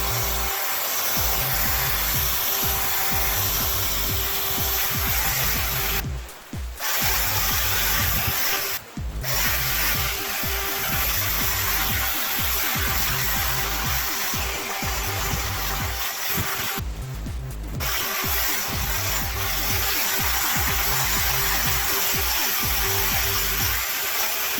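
A drill fitted with a Velcro pad of 800 grit sandpaper sands a car headlight, a loud, steady, close whirring grind that runs nearly nonstop, with a few brief dips where it pauses.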